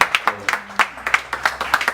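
Scattered handclaps from a small audience at a press conference, a handful of separate claps spread unevenly over two seconds rather than a full ovation, with faint background murmur.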